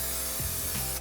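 An aerosol can sprays adhesive while carpet lining is fitted inside a van conversion: a steady, close, loud hiss that runs without a break, with a faint rub or shift of material partway through.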